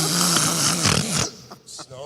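A voice imitates snoring, a rough, rasping drone lasting about two seconds and fading into breathy noise at the end.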